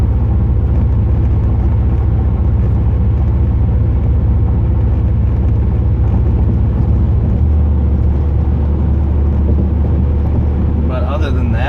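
Exhaust of a 2008 Pontiac Grand Prix GXP fitted with a Thrush welded muffler while driving, a loud steady low rumble throughout with a deeper drone in the final seconds.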